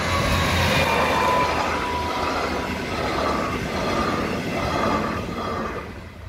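A regional train bound for Mühldorf stands at the main station, heard as a loud, continuous rumble of rolling cars with faint rhythmic wheel clatter and a thin squeal, with no one talking.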